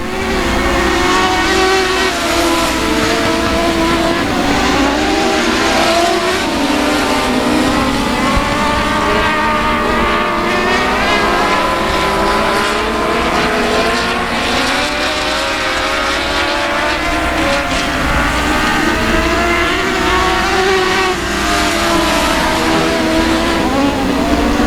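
Race cars circling South Texas Speedway, a loud continuous roar of several engines overlapping and rising and falling in pitch as they pass, sustained throughout at close range.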